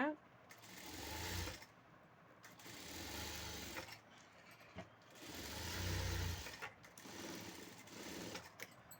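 A sewing machine stitches a blouse in short bursts of rapid whirring, close and fairly loud, stopping and starting between runs while someone talks over the pauses.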